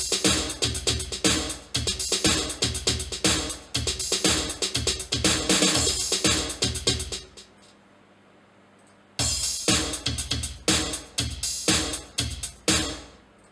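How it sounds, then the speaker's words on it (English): Punchy electronic drum machine beat with kicks, snares and hi-hats in a steady rhythm, dropping out briefly to a low hum before resuming. "And the drums sounds like this."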